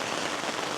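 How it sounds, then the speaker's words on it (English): Steady rain pouring down during a rainstorm at a truck campsite in Show Low, Arizona, a dense unbroken hiss of drops drumming on surfaces, close and loud, with no voices. "we just had another rainstorm fire up"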